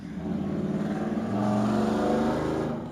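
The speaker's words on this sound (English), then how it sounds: "the elevator raced downward" A plummeting elevator in the video game The Stanley Parable, heard as a loud, steady rushing engine-like drone that rises in pitch and swells toward the middle, continuous for the whole stretch with no talking.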